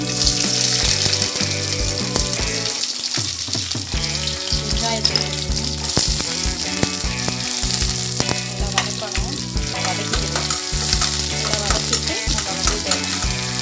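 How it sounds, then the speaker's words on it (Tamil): Mustard seeds and urad dal splutter and crackle in hot oil for a South Indian snakegourd kootu, a dense, loud, continuous frying sizzle with scattered sharp pops and the occasional scrape of a spoon, no voices. "ஆயில் வந்து சூடு வந்துருச்சு நம்ம வந்து கடுகு உளுந்த பருப்பு போட்டுடலாம் அது பொரியட்டும்"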